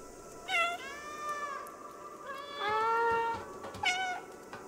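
Three drawn-out meows from the cat in the video game Stray, clear and close, spaced a second or so apart over a quiet background hum, with no talking.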